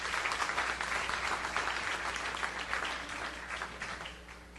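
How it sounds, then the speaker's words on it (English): Full-room audience applause at a school board work session honoring board members, a steady roar of clapping that gradually fades as it winds down. "So let's give them a round of applause."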